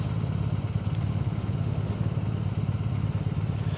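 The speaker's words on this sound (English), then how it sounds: "So I'm going to put it in neutral just not to labour the bike, and I'm sat here ready." A motorcycle idles in neutral while waiting at traffic lights, a steady low rhythmic engine throb heard close and continuous from the rider's position, with no talking.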